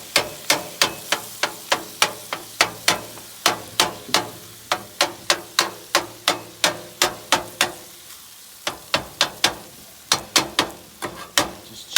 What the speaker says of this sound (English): Chopping that chicken up really good